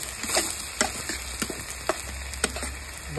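Garlic paste frying in a pan for a prawn malai curry, a steady close sizzle with soft crackles and occasional stirring taps, alone without talk.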